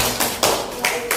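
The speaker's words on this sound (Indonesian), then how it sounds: "Kita beri tepuk tangan." A sixth-grade class claps in a classroom, a few broad, rough bursts of scattered hands close by, uneven and brief over a low room hum.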